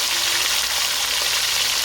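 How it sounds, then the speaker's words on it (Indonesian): Fish frying in hot oil, a dense, steady sizzle with no pauses, close and fairly loud throughout and no talking. "Ikannya kita goreng saja ya teman-teman."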